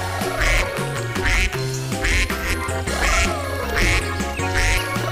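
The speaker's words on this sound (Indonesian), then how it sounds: "Ini dia yang namanya mainan bebek." Toy duck quacking in a repeated rhythm of loud bursts over cheerful background music, close and clear with no talking.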